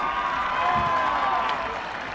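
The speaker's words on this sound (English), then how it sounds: "Give her a cheer for Heather, please." A crowd at a college rugby match between BYU and Saint Mary's breaks into brief applause and cheering for an injured player, a short burst of clapping that swells and then fades.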